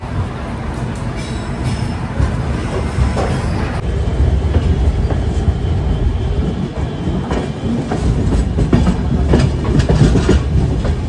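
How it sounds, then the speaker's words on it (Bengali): A passenger train leaves New Jalpaiguri station and runs on, its loud, steady rumble building as it picks up speed, with rhythmic clatter from the wheels and the carriages heard from inside. "10 মিনিট লেটে আমাদের ট্রেন স্টেশন থেকে ছাড়লো।"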